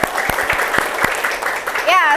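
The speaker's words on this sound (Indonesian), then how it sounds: "tepuk tangan untuk kita semua" Classroom applause from students and teachers during a school teaching-practice session, a brief burst of clapping with a few sharper individual claps and some vocal noise near the end.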